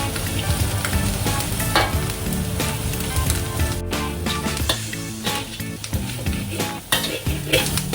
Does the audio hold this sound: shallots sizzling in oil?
yes